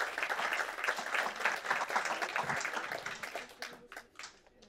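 An audience applauds a panel at a climate adaptation conference, dense clapping that runs steadily and then thins out toward the end.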